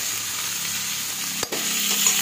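Cauliflower being stir-fried in a pan for aloo gobhi, with potatoes, giving a steady sizzle broken by one brief scrape near the middle.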